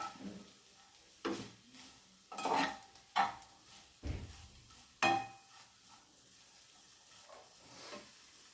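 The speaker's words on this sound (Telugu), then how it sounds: "క్యారెట్ వేసుకుని వేయించుకోవాలి దాంట్లోనే బీన్స్ కూడా వేసుకుని వేయించుకోవాలి" Carrots and beans fry in a pan under a low, quiet sizzle, with a handful of distinct stirring scrapes and clinks spaced a second or so apart.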